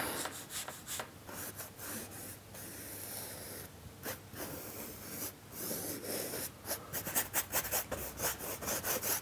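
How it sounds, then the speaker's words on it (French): A brush lays diluted black acrylic paint, thinned with water, onto a surface in short scratchy bursts of close strokes separated by brief pauses, quickening toward the end, with no voices. "Je prépare avec un fond noir dilué à l'eau la zone où je vais appliquer mon mortier."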